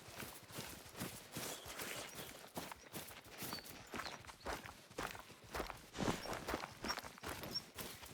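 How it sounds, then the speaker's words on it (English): Heavy footsteps stomp across a floor upstairs in a steady series of dull, irregular thuds that keep going throughout. "You could probably hear my grumpy old dad stomping upstairs."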